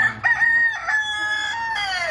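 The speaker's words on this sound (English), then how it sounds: "I am trying to get rid of cockerels." A rooster crows loudly and close by, one long drawn-out call with a rising start and a trailing end, nothing else around it.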